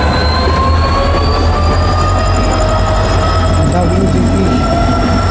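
A diesel locomotive passes close by on Indian railway track, a loud continuous roar with rumbling wheels and a high metallic whine that persists throughout.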